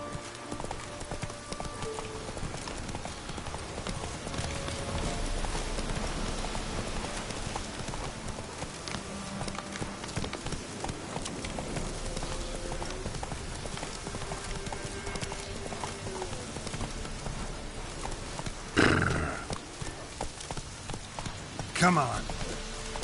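Horse galloping in the Witcher 3 video game, a steady rapid clip-clop of hooves running throughout at moderate level, with a couple of louder snorts or whinnies near the end and some speech over it.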